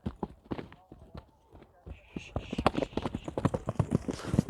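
A horse's hooves clip-clop in a sharp, uneven rhythm, first sparse and then faster and louder as the horse moves and turns, with a voice talking over it.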